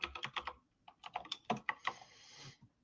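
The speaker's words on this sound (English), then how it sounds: "Gotta love the front keyboard just slamming." Rapid computer keyboard typing comes in quick bursts of close, crisp key clacks with short pauses between runs, fairly quiet and with no talk.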